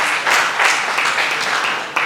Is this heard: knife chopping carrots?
no